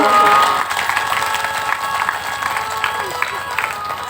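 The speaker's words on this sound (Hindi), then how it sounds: "और ये साउंड वाले भाई लोगों के लिए भी ताली बजा दीजिए" An audience at a religious discourse claps for the sound crew, a brief loud burst that settles into scattered, ongoing clapping with crowd murmur. A voice talks over it.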